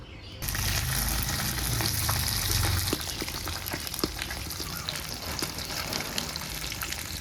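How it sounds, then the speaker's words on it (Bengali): Katla fish pieces frying in hot oil in a pan, a loud, steady sizzle with crackling pops throughout, close and continuous with no talking. "গরম তেলে এখন মাছগুলো ভেজে নেব"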